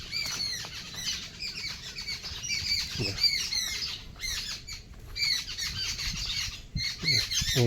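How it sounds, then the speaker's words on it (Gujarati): Several sparrows chirp and squawk busily and continuously in a village, sharp repeated calls overlapping nearby with no talking. "ચકલા ચી ચી ચી કરે છે"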